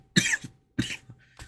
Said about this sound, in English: Sorry, I'm coughing a little bit.